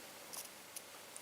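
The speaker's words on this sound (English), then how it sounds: "And now you can cut your yarn and open up." Scissors snipping through crochet yarn: a few faint, sharp little clicks spaced apart against a quiet background, close up and with no voices.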